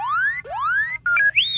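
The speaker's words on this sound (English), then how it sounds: "So here's one of R2's famous audio files open in a program called Audacity." The original R2-D2 droid beeps: a quick run of rising electronic whistles and chirps, close and clear, with a few warbling tones at the end.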